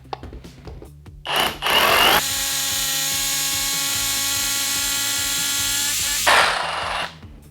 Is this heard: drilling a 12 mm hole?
yes